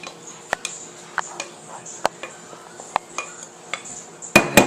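A 9x13 metal baking pan in a home kitchen, handled with a string of light metallic taps and clinks, then a louder clatter as it is set down, close and without speech.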